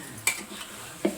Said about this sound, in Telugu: ఇలా వేసుకున్న తర్వాత మళ్ళీ మనం మొత్తం కలిపేసుకున్నాం